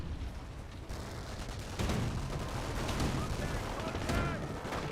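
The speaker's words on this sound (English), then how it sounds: "17 pounder is still firing away" A 17-pounder anti-tank gun and a Vickers machine gun fire in the Company of Heroes game, with dense battle noise, repeated shots and bursts that swell louder midway.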